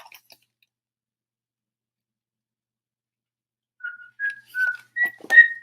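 After a long silence, someone whistles a short rising run of clear notes, five brief tones close to the listener.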